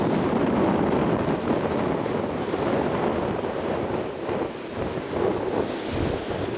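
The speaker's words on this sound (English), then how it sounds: "This eastbound train just left the Clinton sub, entered the Geneva, and then vice versa with the westbound." A continuous low rumble and rattling roar of a Union Pacific freight train rolling across a swing bridge over the Mississippi backwater, heard from nearby with some wind buffeting the microphone.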